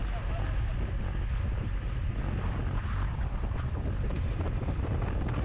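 Headwind roaring over the microphone during a Cat 4/5 practice criterium bicycle race, a loud steady rushing buffet that fills the whole stretch without letup.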